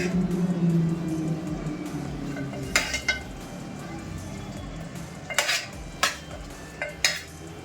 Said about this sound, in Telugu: సో ఇలా స్టఫ్ చేసుకున్నాక బాగా అయితే మిక్స్ చేసేసేయాలి